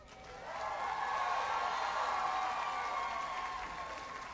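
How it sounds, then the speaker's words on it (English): A commencement audience at a college graduation gives the teachers a round of applause, steady and fairly distant, swelling in and holding as one broad wash of clapping with faint crowd murmur. "Now it is your opportunity to thank them by offering them a round of applause."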